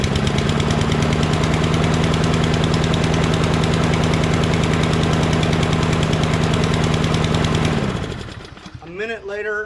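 A Murray push lawnmower engine runs at a steady, loud, buzzing idle for about eight seconds, then cuts out and winds down, with no voices.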